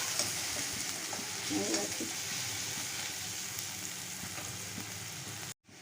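Onion and garlic frying in a pan, stirred steadily with a constant sizzle and scraping; a voice briefly speaks over it before the sound cuts off abruptly.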